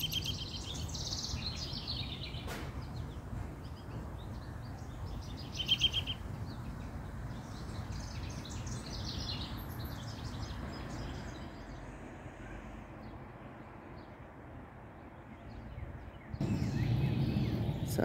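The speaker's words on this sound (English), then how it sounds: "it's a beautiful day here and the birds are singing" Birds singing in a park on a fine day, scattered chirps and tweets spread over a quiet outdoor backdrop with low rumble, faint and fairly distant.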